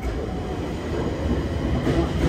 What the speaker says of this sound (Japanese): てかあんな長い電車を初めて見たかもね、生で。